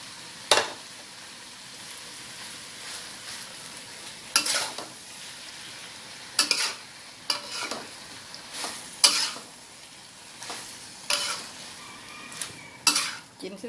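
Bean sprouts and spring onions stir-fried together in a hot pan, with a steady low sizzle broken by about a dozen sharp scraping clacks of a utensil against the pan, loud and close, with no talking.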